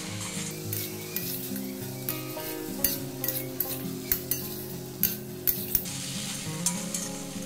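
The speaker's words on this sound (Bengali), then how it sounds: "মশলা পনির একটু আরও ভেজে নেব" Grated paneer with masala and pointed gourd (potol) frying in a pan, a steady sizzle broken by repeated sharp scrapes and knocks of a spatula stirring against the pan, close and alone.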